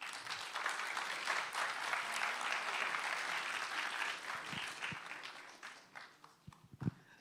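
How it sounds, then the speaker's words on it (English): An audience applauds at an International Animation Day 2025 event, dense sustained clapping that fills the room for several seconds before thinning into scattered claps and fading. "Another round of applause."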